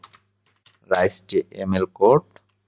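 Typing on a computer keyboard while entering a request into a chatbot, short bursts of clicks mixed with someone speaking Bengali over them.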